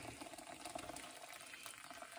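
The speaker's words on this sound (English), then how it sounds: "we're going to top this up now with boiling water." Boiling water is poured steadily into a steak and stout pie filling in a home kitchen, a continuous splashing gush that runs unbroken throughout.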